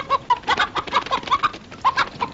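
Chicken clucking close by in quick, uneven bursts of short throaty notes, loud and alone without talk.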